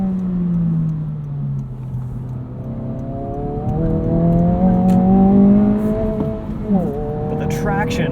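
A 2022 Honda Civic Si accelerates at night, its engine note climbing steadily through the revs, dropping with a shift, then rising again, heard from inside the cabin with someone talking over it.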